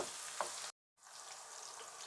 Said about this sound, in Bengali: এখানে পরিমাণ মতো পেঁয়াজ কুচি দিয়েছি এটা সুন্দর করে একটু বেরেস্তা করে নিব